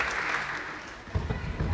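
A brief burst of audience applause for Tiago Carvalho, founder of Cinepop, at a Portuguese cinema event presenting Indiana Jones and the Last Crusade; dense, steady clapping that swells slightly toward the end.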